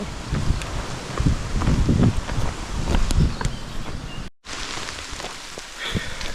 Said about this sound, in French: il pleut là et elle est gelée la pluie